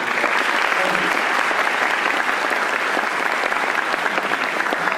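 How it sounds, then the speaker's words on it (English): Sustained applause from a crowd, steady dense clapping that fills the whole stretch without pause. "I'd like to encourage a round of applause for all of the hard work."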